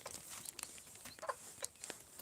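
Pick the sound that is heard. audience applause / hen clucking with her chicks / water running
hen clucking with her chicks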